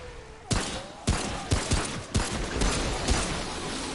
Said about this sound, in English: Pistol isn't amazing, but it's definitely got a good fire rate